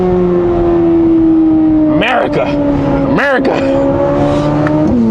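A Chevy Z01X engine drones steadily at 80% throttle, then blips its revs twice in quick rising-and-falling swells on downshifts, loud and close inside the car, with a voice speaking over it.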